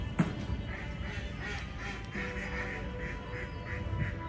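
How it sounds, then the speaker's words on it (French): Ducks quacking in a series of short, evenly spaced calls along a walking path near Queenstown, New Zealand, moderately distant over steady outdoor ambience and low rumble. "Il y a des canards et tout."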